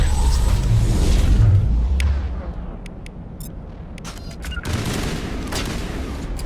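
Shotgun blasts in a Mass Effect–style shooter firefight, heard as heavy booming reports and rumbling battle noise that swell and fade over a few seconds with dense combat sound around them.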